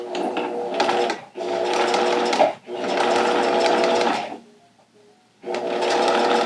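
A sewing machine stitches a two-layer vinyl pouch in loud, close bursts of rapid whirring, stopping briefly between runs and pausing longer before starting again.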